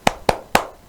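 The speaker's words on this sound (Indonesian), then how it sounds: "Kita tepuk semangat dulu ya." Three sharp, evenly spaced claps from children doing the tepuk semangat spirit clap during a live storytelling session, quick and distinct with short decays.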